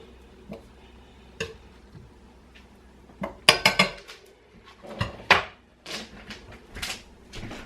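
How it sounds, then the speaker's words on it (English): Butter going into a skillet to toast bread for patty melt sandwiches, with several sharp clinks and knocks of a utensil against the pan spaced irregularly over a quiet background. "So we're going to add some butter right to the pan."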